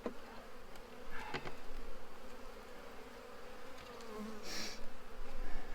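Honey bees buzz steadily at close range while being transferred into a new Apimaye hive, a continuous droning hum with occasional louder passes and light handling noises.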